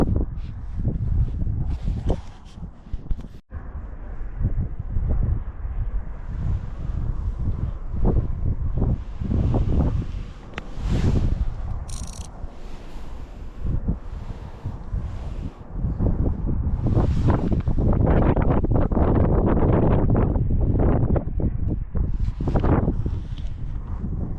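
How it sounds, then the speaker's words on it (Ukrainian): Gusty wind on a riverbank while fishing for zander buffets the microphone throughout, a steady low roar with rustling bursts, loud and close. "правда, вітер трошки дує"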